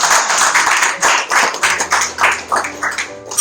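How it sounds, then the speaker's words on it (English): Audience applause after a talk on self-efficacy at an IATD event: a steady wash of many hands clapping, fairly loud and continuous for a few seconds, with a faint low hum underneath. "Let us give a clap for IATD people."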